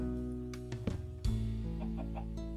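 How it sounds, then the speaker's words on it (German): Chickens clucking in the video game Minecraft, short clucks repeating over steady background game music, moderately loud with no talk. "Hühner."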